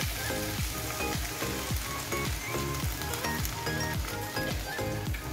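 Water poured into a hot frying pan of stir-fried green beans and beef skin with green chili sizzles loudly and steadily, a dense close crackle with no talking.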